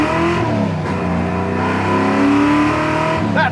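A 1969 Chevy Camaro accelerating hard, its loud engine roaring close with rising pitch as the revs climb, ending in a shift.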